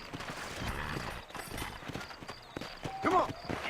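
Horses clip-clop in the Red Dead Redemption video game on Xbox Series, a steady rhythmic hoofbeat at moderate loudness mixed with game sounds and a brief squeaky mechanical creak near the end.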